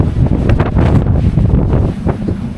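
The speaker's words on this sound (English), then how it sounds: "It's way too windy here." Strong gusts at the Rock of Gibraltar buffet the microphone with a loud, continuous roaring rumble; no talking is heard.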